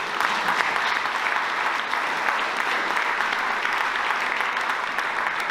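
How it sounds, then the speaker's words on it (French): A crowd at an awards ceremony for regional tourism gives dense, sustained applause. The clapping stays evenly loud and steady throughout with no breaks, and no clear voices rise above it. "Je vous demande d'applaudir très très fort."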